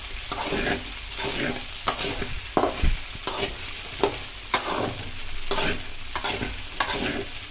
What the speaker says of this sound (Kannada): ಅದು ಎಣ್ಣೆಯಲ್ಲಿ ನೀಟಾಗಿ ಫ್ರೈ ಆಗುತ್ತೆ